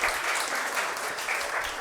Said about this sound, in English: Now start clapping.